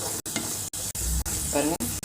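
Oil sizzles steadily as a thick ground paste for a black-eyed pea masala is stirred and scraped in a pan, with brief sharp clicks from the spoon breaking the frying hiss.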